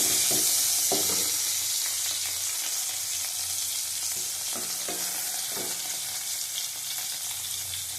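A tomato fries in a hot pan with light salt, giving a continuous soft sizzle broken by occasional scraping stirs of a spatula, close and alone with no talk.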